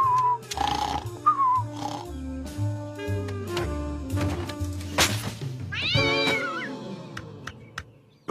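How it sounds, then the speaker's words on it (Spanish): Several cats meow repeatedly from a television, with varied pitched cries overlapping one another, some short and some drawn out, fairly close and loud, with no speech. "¿200 canales y solo veo gatos?"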